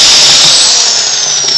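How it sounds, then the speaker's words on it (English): A low-speed Harbor Freight drill fitted with a plaster mixing blade runs continuously, a loud, close, steady whirring hum with a high whine held through without pause. "I take the low-speed drill. It's a low-speed drill that I got at Harbor Freight,"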